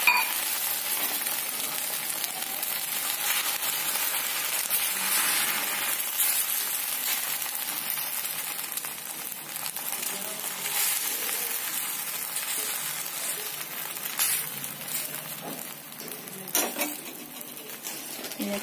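Egg omelette batter with onion, green chilli, coriander and salt sizzles and crackles steadily on a hot griddle, a continuous close frying hiss with occasional light utensil taps and no talking.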